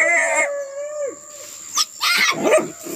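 Several dogs from a pack on a paca hunt howl and bark close by, a sustained howl giving way to scattered yelps and barks.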